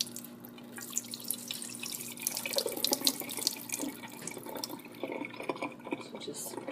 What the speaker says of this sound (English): So just drain it off slow, and then they kind of settle in there.